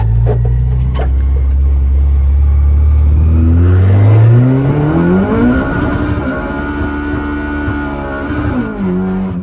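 A Honda K20A2-engined Civic EK revs up hard on a dyno, its pitch climbing steadily then holding high before easing off, loud and close with no talking.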